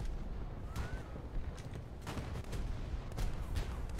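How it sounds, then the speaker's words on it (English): Ship deck gunners firing in a War Thunder naval battle, scattered distant booms and cracks spaced irregularly over a low rumbling background, fairly faint. "let's see my gunners actually make a few shots here"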